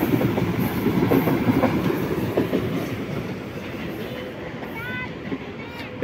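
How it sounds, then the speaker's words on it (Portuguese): Train passing on a railway line beside people flying kites, a steady close rumble of wheels and clattering cars throughout, with people talking over it and a faint squeal near the end. "Ó o trem, ó, ó lá, ó."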